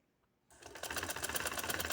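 A sewing machine stitches fine lace trim onto a plain shalwar, starting after a brief silence and then running in a steady, fast, close mechanical chatter with no talk.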